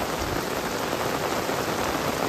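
Heavy rain pours steadily and loudly around hikers on the Khireshwar route up Harishchandragad near Kokankada, a dense unbroken hiss with no voices.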